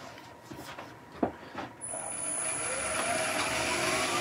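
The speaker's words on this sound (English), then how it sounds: "And we're gonna use the skew chisel." Wood on a lathe is turned with a skew chisel for a Christmas nutcracker, a few knocks and rubs at first, then a continuous close cutting whir with a thin high whine that builds and holds.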